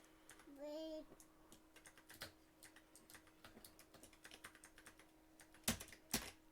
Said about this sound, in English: Stop hitting the keyboard or Daddy will put you down.